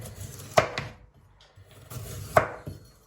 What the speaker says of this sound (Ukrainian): Морквочку нарізаємо смужечками.